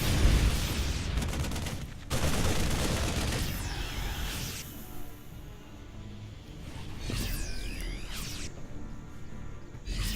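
StarCraft II battle with Terran siege tanks and stimmed marines firing, a dense barrage of rapid gunfire and heavy blasts in loud bursts with brief lulls, plus sweeping energy-weapon zaps, no voices.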